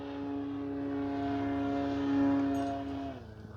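A Hangar 9 J-3 Cub RC airplane with a 10cc engine drones overhead in a steady, buzzing hum that swells slightly before fading quickly away.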